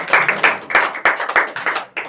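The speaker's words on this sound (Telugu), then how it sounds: "చప్పట్లు కొడదాం." A church congregation claps their hands together in a steady rhythm of about a dozen claps, loud and close, with no talking.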